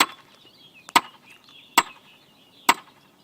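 A hammer strikes a nail three times at an even pace, each blow a sharp, close, ringing knock with quiet between hits.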